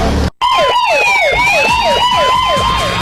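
Ambulance siren near Brasília wailing loudly and close by in a rapid repeating up-and-down yelp after a brief cut, with the vehicle's road noise underneath and no talking.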